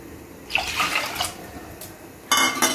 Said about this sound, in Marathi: त्याच्यामध्ये आपल्याला पाणी घालून घ्यायचं आहे